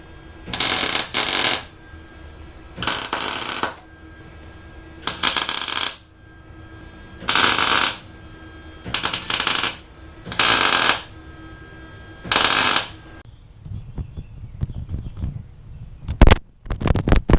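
Seven evenly spaced bursts of tack welding on an axle bracket for a Toyota E153 gearbox swap into a Mazda BG Ford Escort GT, each crackling arc lasting about half a second, followed by clanks and metal handling.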